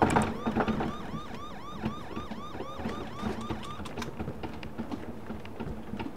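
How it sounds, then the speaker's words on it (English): Rising and falling police car siren in BeamNG.drive, loud and close at first, sweeping rhythmically over engine rumble before fading into background game noise; no talk over it. "This police car."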